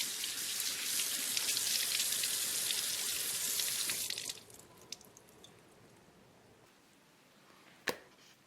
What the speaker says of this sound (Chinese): 这是200克新鲜的羊肉，用清水清洗干净。